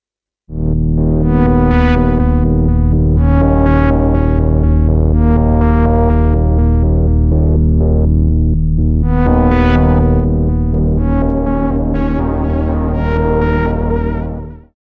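Loud, dry synthesizer chords without delay or chorus effects, with a deep bass, play in a slow progression, each change clearly struck, ending with a short fade.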